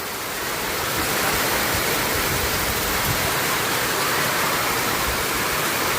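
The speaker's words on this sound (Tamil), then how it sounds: "காற்றை பாருங்கள் மழை எப்படி தள்ளிட்டு வருது" Heavy wind-driven rain in Mullaitivu, Sri Lanka, roars in a thick, constant wash, swelling slightly at first and then holding loud and steady, with no voices over it.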